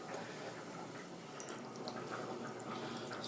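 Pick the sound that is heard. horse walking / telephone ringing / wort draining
wort draining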